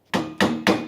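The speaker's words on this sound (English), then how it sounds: "I'm going to get a hammer to put this in" Three sharp hammer blows drive a steering stem into the forks of an old rusty trike, evenly spaced metallic knocks close up, each ringing briefly before the next strike.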